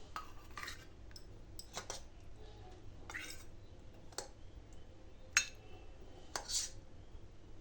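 Metal serving utensils clink and scrape against dishes as soya bean, ridge gourd and potato curry is served. The clatters are sharp and spaced out, with quiet room sound between them.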